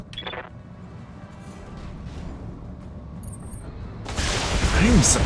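Weapon fire from BattleTech mechs in a battle, a short burst near the start, then a dense, loud broadband barrage of shots and explosions building over the last second, with a steady low rumble throughout.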